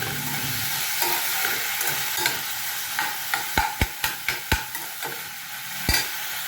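Bottle gourd peels fried with chopped coriander in a pan: a steady sizzle under repeated sharp clacks of a spatula scraping and knocking the pan, irregular strokes growing more frequent toward the end.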